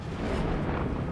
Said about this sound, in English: These explosions! No way!